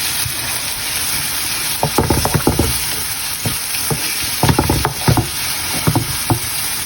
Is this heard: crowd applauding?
no